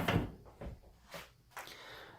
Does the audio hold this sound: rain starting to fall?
no